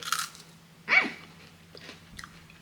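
Freeze-dried strawberry pieces are crunched in the mouth, giving a single short crisp bite up close, followed by a few faint smaller crunches in a quiet room.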